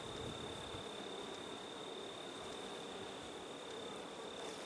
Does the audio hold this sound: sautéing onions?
no